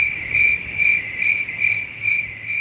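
Cricket chirps played as a sound effect ring out in a steady pulsing trill, loud and close, with regular repeated bursts and no voices over them.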